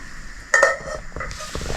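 Ground meat and vegetables frying in a home kitchen pan, a sudden sizzle and stirring clatter rising after a quiet start, with utensil scrapes continuing close by.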